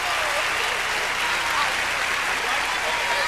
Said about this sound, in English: Give them another big hand